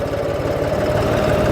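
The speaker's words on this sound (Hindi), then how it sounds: "3 नंबर गियर के अंदर भी ट्रैक्टर उठ गया है बिल्कुल" John Deere 5310 GearPro tractor engine pulling in third gear, a loud, steady diesel drone with a fast, even throb, close by and continuous, with no voices over it.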